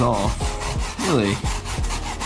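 Brass brush scrubbing a plywood sign in quick, rasping back-and-forth strokes, close and loud, about half a dozen strokes in rhythmic succession.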